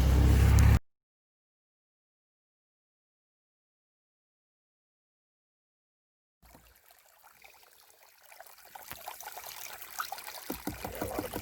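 Water from a homemade trommel washes down sluice mats, a steady rushing trickle that starts after a long silence and grows louder and fuller toward the end.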